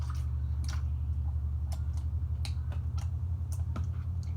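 Borax slime being squished and squeezed by hand gives off a run of short, wet clicking and popping squelches at an uneven pace. They sit close over a steady low hum with no one talking.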